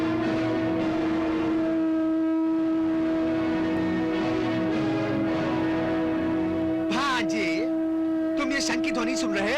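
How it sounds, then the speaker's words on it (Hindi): A conch shell blown by Abhimanyu, son of Arjuna, on a Mahabharata battlefield, sounding as a long, steady, loud droning tone that holds throughout, with brief voices breaking in near the end. "ये शंख अर्जुन पुत्र अभिमन्यु बजा रहा है।"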